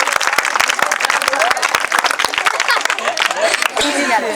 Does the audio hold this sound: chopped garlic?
no